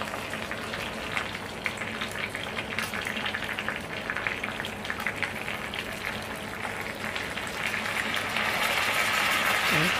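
Chicken frying in oil in a pan sizzles and crackles steadily throughout, growing louder and hissier near the end as the pieces are flipped, with a voice talking faintly over it.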